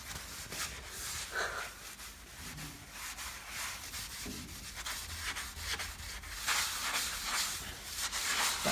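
A sponge with thick cleaning cream scrubs a fireplace, producing a rough, hissing rub in repeated strokes of varying strength, close and fairly loud, with no talking.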